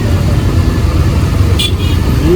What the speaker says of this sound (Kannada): ಏನು ಟ್ರಾಫಿಕ್ ಐತೆ